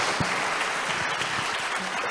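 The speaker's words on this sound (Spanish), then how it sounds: "un aplauso para todos los panelistas" Brief burst of steady audience applause for panelists at an institutional forum, dense even clapping from a seated crowd, slightly distant and unbroken by speech.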